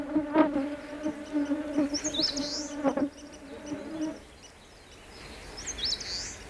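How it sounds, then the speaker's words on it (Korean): Honeybees buzz steadily around dogtooth violet flowers on a spring forest floor, a close, droning hum that fades after a few seconds, with brief bird calls chirping in the background. "꿀벌이 얼레지를 찾는 것은 꿀과 꽃가루를 얻기 위해서다."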